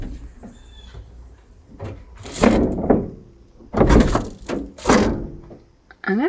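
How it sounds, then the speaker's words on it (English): Back doors of a Ford Transit camper van conversion being shut, giving several heavy, close thunks spaced a second or so apart over a quiet background. "My lovely assistant is gonna demonstrate what happens when we close the doors."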